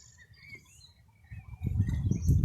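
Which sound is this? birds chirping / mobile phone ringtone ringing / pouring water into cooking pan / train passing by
birds chirping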